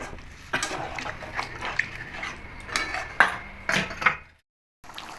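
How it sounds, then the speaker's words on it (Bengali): Fried prawns being added to pointed gourd in a pan, close metallic clinks and scrapes of a spatula against the pan in several short strokes, then a brief silence. "এবার দিয়ে দেবো ভেজে রাখা চিংড়ি মাছ।"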